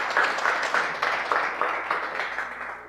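Audience applause and cheering at a Serato DJ workshop at BPM Supreme HQ, steady hand clapping with rhythmic pulses and a shout or two, fairly close and moderately loud, no talk over it.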